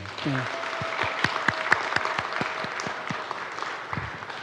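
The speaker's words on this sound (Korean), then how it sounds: "우리 다시 한번 큰 박수 할까요?" A church congregation claps at an afternoon worship service, moderate applause with some sharp individual claps standing out. A brief voice is heard at the start and another near the end.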